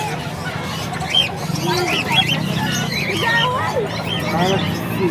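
Chickens cluck and chirp in short bursts at a public market, amid a busy crowd's chatter, with voices talking throughout.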